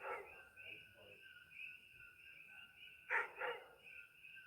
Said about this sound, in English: it's making my dog want to go crazy